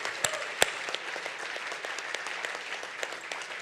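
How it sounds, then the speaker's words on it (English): Audience applause at the Bay Area CFO of the Year Awards 2024, a steady sustained round of clapping filling the room, with a few sharper claps standing out early on. "can we just one more round of applause?"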